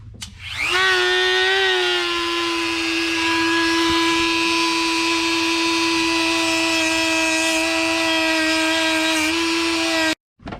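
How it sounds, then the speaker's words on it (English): Power sander running on a fuel pump controller ground point, grinding the bolt contact area down to bare metal. A steady, loud whine holds for about ten seconds and then cuts off abruptly, with no talking. "So we're going to sand it to make sure."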